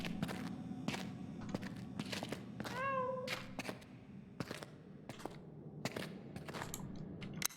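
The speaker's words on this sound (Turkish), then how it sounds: "Kedi sesi duydum." A single short cat meow from a video game, with a rising then falling pitch, heard over sharp clicks and a steady low background hum.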